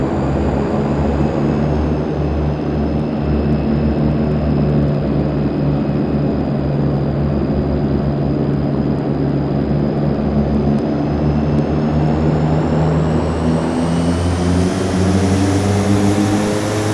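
In Flight Simulator X, a propeller airliner takes off at night from runway 9 at TNCM, its engines roaring loudly and steadily with a rising pitch as it accelerates, continuous and without talk.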